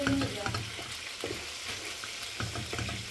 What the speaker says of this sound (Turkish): şöyle biraz kızarttım